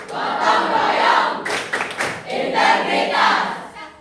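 A group in Indonesia claps out the rhythmic tepuk PPK chant together, with loud unison claps alongside chanted voices and a brief burst of sharper clapping partway through.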